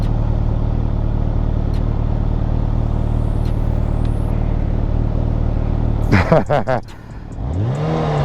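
A Kawasaki Ninja H2 motorcycle engine idles with a steady low drone, then revs and pulls away nearby with several rising and falling sweeps that fade off.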